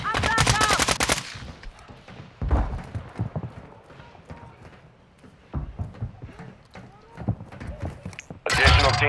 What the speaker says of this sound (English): You are taking effective fire. He's shooting through the top side window.